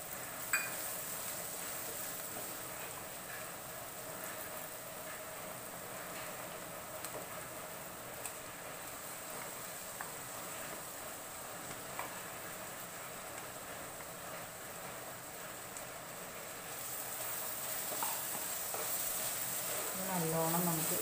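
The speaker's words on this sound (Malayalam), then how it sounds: "നല്ലോണം നമുക്ക് ഇത് വഴറ്റിയെടുക്കണം, നന്നായിട്ട് വഴറ്റണം." Kerala-style pork masala sautés and is stirred in a pan, giving a soft, constant sizzle with occasional scraping ticks; a voice talks over it and the frying grows slightly louder toward the end.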